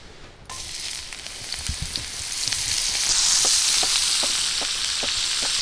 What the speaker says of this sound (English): Oil's probably hot enough we can get our sauteed in. So I'm gonna do the oyster and the chanterelle together.